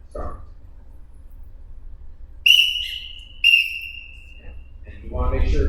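A referee's whistle at wrestling practice blows two sharp, shrill blasts, the second trailing off longer, in a quiet gym with a person talking briefly before and after.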